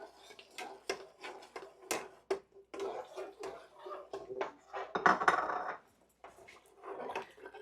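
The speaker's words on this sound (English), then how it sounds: "I will continuously stir and add in my tomato puree that I prepared" A spoon stirs tomato puree into a boiling pot of Sindhi kadhi, making repeated light clinks and scrapes against the pot at an uneven pace, close and fairly quiet.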